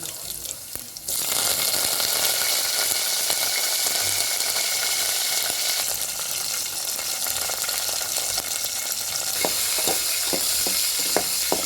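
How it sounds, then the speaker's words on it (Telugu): Spices and aromatics for dal tempering sizzle loudly in hot oil, a dense continuous hiss close to the microphone that holds steady for over ten seconds, with a few light clicks of stirring near the end. "తాలింపు వేస్తుందండి."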